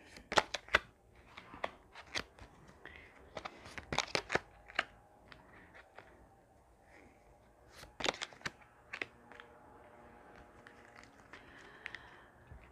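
Tarot cards being shuffled in short bursts of crisp riffling and light slaps, separated by quiet pauses, close up and with no voices.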